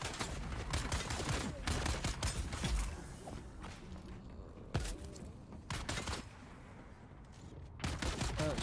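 Rapid bursts of gunfire aimed at the player in Dune Awakening, crackling volleys that come and go with mechanical clanks and creaks between them, fairly quiet overall.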